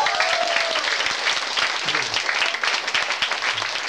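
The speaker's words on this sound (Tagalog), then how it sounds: "Yan, yung may mga kamay, pumalakpak sa Diyos." A congregation at a workers' formation gathering of a Christian ministry applauds in a dense, sustained burst, with a few voices and a brief sung tone mixed into the clapping.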